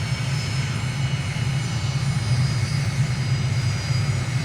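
A MiG jet accelerates down runway 1 right for an early-morning takeoff, its engines producing a steady, loud, continuous roar with a heavy low rumble that holds even throughout.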